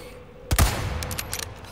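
A sniper rifle fires in Resident Evil 4, one sharp loud crack followed by a brief rumbling echo and a few faint clicks.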